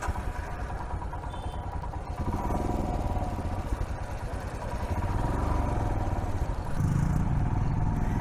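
A motorcycle rides along a road in Udaipur with other riders in a group. A steady engine drone with road noise rumbles throughout, growing louder and heavier after the first couple of seconds.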